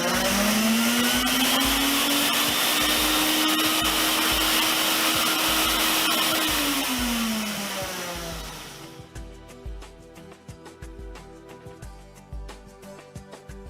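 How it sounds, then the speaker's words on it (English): A vacuum cleaner run as an inflator blower, a loud steady whirring roar whose pitch shifts, then it is switched off and winds down to quiet clatter near the end. "when you turn on, it is now a inflator blower"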